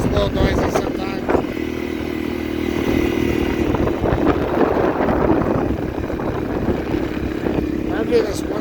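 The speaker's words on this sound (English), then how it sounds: "The engine sounds a little noisy sometimes." Engine of a used 2016 Honda CRF250L motorcycle running steadily nearby, a continuous rumbling drone with a slightly noisy mechanical edge, unbroken for the whole stretch, while a person talks over it.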